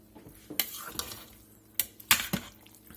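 A small metal spoon stirs and scrapes cooked rice in a Creole jambalaya inside an Instant Pot. It makes a few sharp, irregular clinks against the pot over a quiet background, with no talking.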